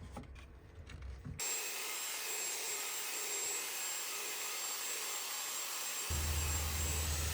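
A wood router fitted with a 3/8 inch bit carves out a large area of a wooden picture panel, a loud steady high whine and grinding starting after a quiet moment and running continuously.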